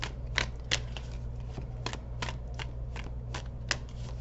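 Tarot cards being shuffled by hand, a series of crisp riffling snaps and slides at an uneven rhythm, close and clear over a low steady hum, with no talking.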